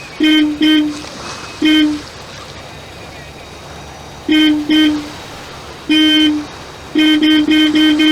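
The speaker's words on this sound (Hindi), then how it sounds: "हॉर्न बजाओ।" Car horn, apparently from a white BMW, honks in several bursts at night: a long blast, then short double toots and a final rapid series of four, fairly close, with faint background noise between the honks.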